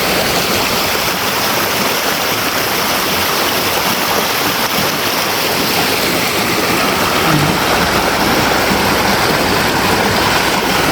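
A waterfall and clear stream pour in a loud, unbroken broadband rush that stays steady and close throughout, with no voices over the roar of the water.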